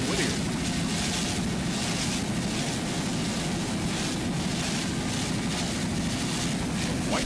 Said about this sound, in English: Nice throttling there by Paul Whittier.